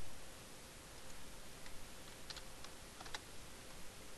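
Light taps on a computer keyboard, a few sparse clicks scattered over a faint steady background hiss.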